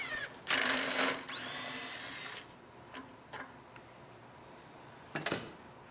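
A power tool backs a 5mm bolt out of a motorcycle fuel tank during ignition coil and spark plug work. A loud, close, whining whir runs about two seconds, then a brief buzzing burst follows near the end.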